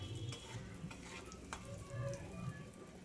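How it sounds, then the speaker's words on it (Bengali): Turmeric powder being stirred into rui fish curry in a frying pan, the spoon scraping in short repeated strokes over a soft, steady sizzle, close and fairly quiet, with no talking. "হলুদ গুঁড়োটাকে দিয়েও নাড়াচাড়া করে নিলাম"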